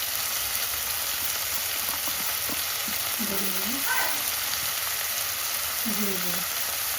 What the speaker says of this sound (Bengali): এবার ভালোভাবে সব মশলা দেওয়া হয়ে গেছে, একটু কষিয়ে নিচ্ছি।